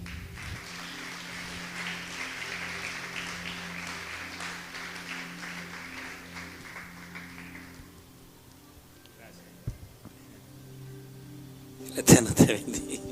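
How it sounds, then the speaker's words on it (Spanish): A congregation at a Messianic church service applauds for the King, a broad patter of clapping that swells and holds for about eight seconds, then fades into quieter room noise before a few sharp close bumps. "Dele un aplauso al Rey."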